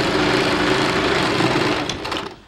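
A sewing machine runs steadily and loudly, stitching a blouse seam in one continuous burst that slows and fades at the end.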